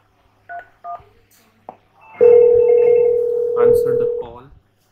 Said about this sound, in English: we can dial any number. Like I can dial from here.